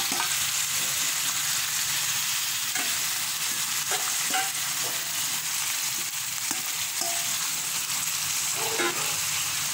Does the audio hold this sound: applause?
no